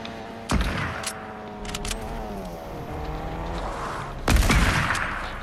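Gunfire in a car-themed video game creative mode, with two sharp shots about four seconds apart over a steady engine drone, as a car's front window is shot out.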